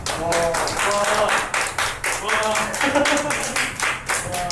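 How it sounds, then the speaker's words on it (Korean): Audience applause at a prepared-piano workshop using upcycled trash, steady broadband clapping for about four and a half seconds with voices talking over it throughout. "우리가 큰 박수로 맞이했습니다"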